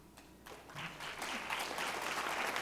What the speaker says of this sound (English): I'll tell her you applauded that line.